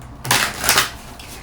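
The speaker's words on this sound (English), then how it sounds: "Let's shuffle. We will use my old deck" A deck of tarot cards being shuffled up close, two quick papery riffling bursts followed by a softer flutter.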